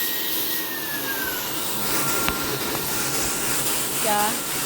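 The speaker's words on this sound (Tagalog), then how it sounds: "Ito yung machine ko. Ang tawag dito sa Korea ay knitting." A knitting machine making gloves in a Korean factory runs with a steady broadband whir and mechanical clatter, a brief squeal and a few rattling ticks near the end, no speech over it.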